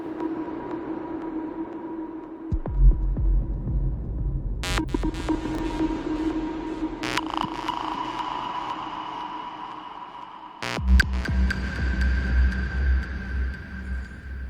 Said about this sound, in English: that sound, which is done the same process as the previous sound, but this time I'm automating the transposition of the clip